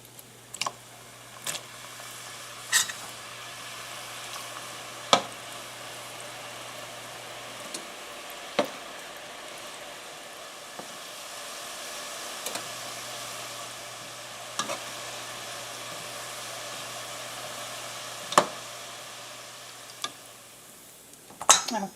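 Struffoli dough balls fry in about an inch of oil in a big pot, giving a steady, moderate sizzle with occasional sharp clicks and pops throughout.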